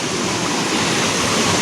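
Shallow village river in Himachal rushing over rocks, a steady, loud, broadband wash of flowing water close by with no talking.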